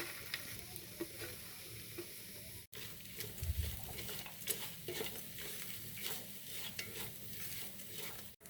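Dried sprats tipped into a pan for a coconut sambol and fried with steady stirring, giving a continuous close sizzle with scraping spoon strokes and a brief thump partway through.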